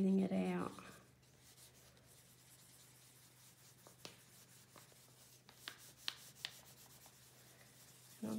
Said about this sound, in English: going over the top of the pencil, and it's just slightly loosening up that the pigments and so on in binders in the pencil and smoothing it out